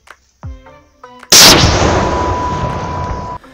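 A mortar fires a single shot at close range, a sharp, very loud blast with a long ringing, rumbling decay, preceded by faint clicks and handling noises.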